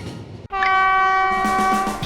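A booming train whistle blasts loud and sustained after a brief rumble of a passing train, a steady multi-tone horn holding for well over a second in a mountain setting.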